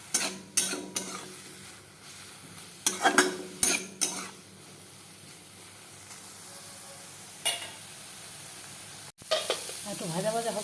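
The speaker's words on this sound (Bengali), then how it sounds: "পনিরটা ভাজা ভাজা হবে" Paneer pieces fry and get stirred in a pan, a steady sizzle broken by repeated scraping strokes of a spatula or spoon, loud and close, with a brief clank near the end.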